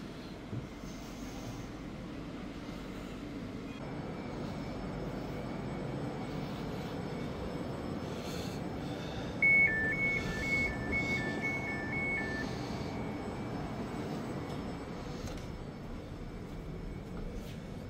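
Inside a Dutch railways ICNG electric train, a steady low rolling rumble and hum carries on throughout, with a brief series of electronic beeping tones sounding midway.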